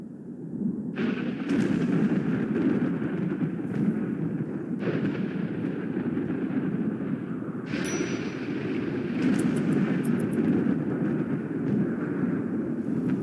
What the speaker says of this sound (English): Oh, and a thunderstorm.